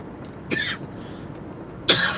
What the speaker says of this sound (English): I cannot get rid of this cough.